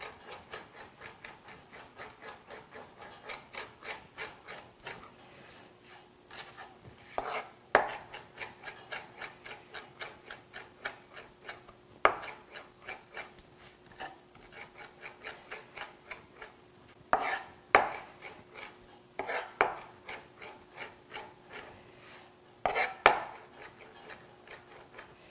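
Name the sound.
chopping sage herbs finely with a knife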